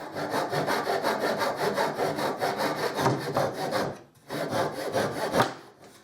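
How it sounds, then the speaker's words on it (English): A wooden piece cut by hand with a saw a few millimetres outside the marked line for a wooden star. Fast, steady back-and-forth rasping strokes sound close and loud, with one brief pause before the sawing resumes. "I cut some millimeters outside the cutter line."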